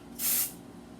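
A short, bright hiss from one burst of hair product from a spray bottle, close by, lasting about a quarter second against a quiet background.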